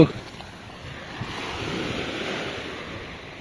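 Sea waves wash and rush steadily at East Coast Park beach in Singapore, with a continuous surf roar and wind buffeting the microphone, cargo ships out on the water.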